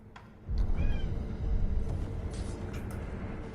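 A short, fairly faint meow from a cat in a video game sounds over a low, steady rumble of background ambience.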